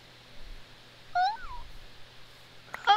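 A Minecraft cat meows twice, short clear mews about a second and a half apart, over quiet game background.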